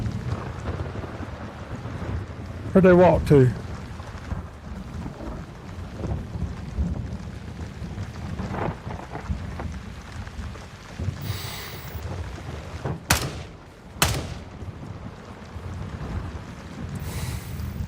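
Thunderstorm with rain in the military shooter game Gray Zone Warfare: a steady wash of rain and wind runs throughout, with rolling thunder and a few sharp cracks later on, while a voice speaks briefly.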